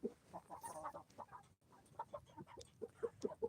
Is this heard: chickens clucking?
yes